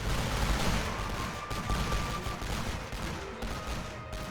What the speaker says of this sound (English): The MG is shooting.